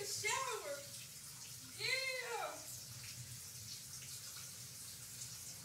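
Shower water runs in a steady, soft hiss, with brief voices over it at the start.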